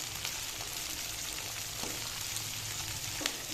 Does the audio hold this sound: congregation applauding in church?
no